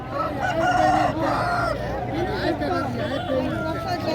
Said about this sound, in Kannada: ಇಲ್ಲೂ ಹಸಿಲ್ದು ಕೋಳಿಗಳು ಇದೆ